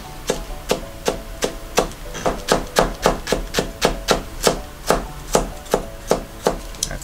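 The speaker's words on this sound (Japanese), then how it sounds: "こうやって丸めて切るんですよ。 丸めて切ると非常に切りやすい。" A knife chops through rolled-up spring cabbage leaves on a cutting board in a steady run of crisp, close, evenly spaced thuds, about three per second.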